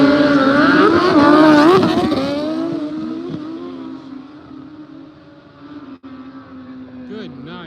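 Drag race cars launching side by side at a no-prep event in the woods, a loud burst of engine roar and rising revs up front that fades into a distant, receding drone as the cars pull away, with a voice talking over the opening.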